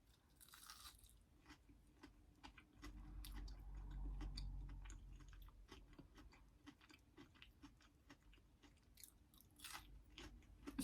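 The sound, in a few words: chewing crispy Arby's mac n cheese bites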